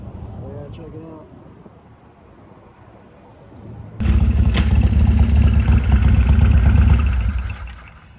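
A Shovelhead motorcycle rides along the road, first as quieter ambient rumble with a voice, then a loud, close engine roar that holds steady for several seconds before easing off.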